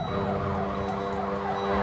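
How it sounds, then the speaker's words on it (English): A wailing emergency siren sweeps up and down continuously, steady and fairly loud, with no voices over it. "I think it starts with sirens."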